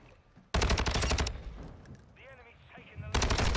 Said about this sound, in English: Bob, I got someone by luck, you know, because I just shot that direction